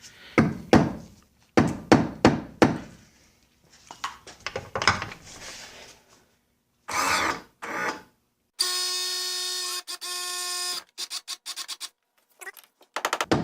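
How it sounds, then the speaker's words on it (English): A hammer strikes a punch against a stuck power trim and tilt part on an Evinrude XP 175 HP outboard, giving several sharp metallic knocks in quick clusters, loud and close, with a brief buzzing tool noise midway. "Or I'm not hitting it hard enough. Let's try the other end of the punch."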